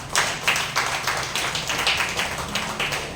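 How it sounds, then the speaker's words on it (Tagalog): Someone in a church congregation claps alone, a steady run of sharp claps about three per second, fairly close and clear over a low room murmur. "Grabe po yung palakpak ng isa."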